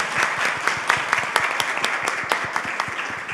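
Audience applause in a sustainability conference session room, many hands clapping with a few louder, sharper claps standing out nearby, steady from start to finish.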